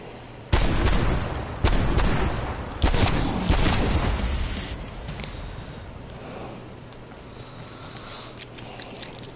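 Three loud, sharp pistol shots in a PS4 video game, spaced about a second apart, each with a decaying echo, followed by quieter ambient game sounds and faint patter.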